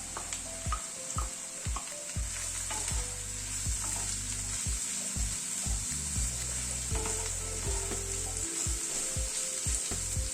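Boiled vegetables sizzle as they go into lightly frying onions in a pan, a steady hiss under repeated knocks and scrapes of stirring, fairly quiet and close with no talk.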